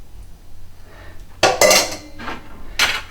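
A spoon scrapes and clinks against a metal pot while coconut oil is scooped in, two sharp metallic clatters rising out of a quiet kitchen.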